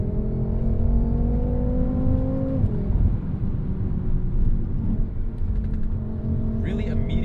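A 2014 BMW M5 F10 accelerates hard, its engine note climbing and then dropping sharply at a quick gear shift before pulling again, a steady, close rumble heard from inside the car with no talking.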